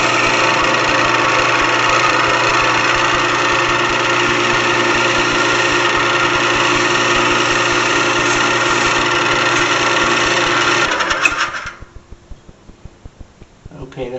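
A lathe cuts a small recess in the end of a pillbox part, giving a loud steady machine drone that stops abruptly near the end, leaving quiet clicks.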